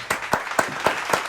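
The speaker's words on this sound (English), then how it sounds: "Clap it up" A short applause sound effect with about five distinct, evenly spaced claps, crisp and close, with no other sound around them.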